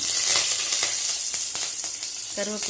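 Mustard seeds spluttering and popping in hot oil, a steady loud sizzle broken by sharp crackling pops at irregular intervals, close up with no talking.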